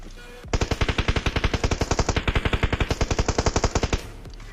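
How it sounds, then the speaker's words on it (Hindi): Automatic weapon fire in the mobile game PUBG Mobile: a loud, rapid, evenly spaced burst of roughly forty shots lasting about three and a half seconds, then stopping abruptly. "इसको एक शॉट दिया, जो इसको बॉडी शॉट लगा"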